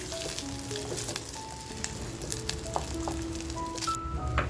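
Dried Bombay duck fish frying in hot oil, a steady close crackling sizzle with scattered pops and faint utensil clinks, no voices.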